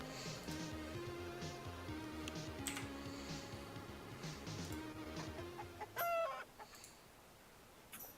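Rapid clucking and squawking from a robot chicken, a giant cleaning-drone walker in a Shadowrun tabletop session, loud and busy for several seconds before cutting off into a few scattered clicks.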